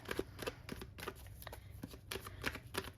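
Tarot cards being shuffled in quick riffling bursts, a series of soft papery flicks and snaps close up, with no talking.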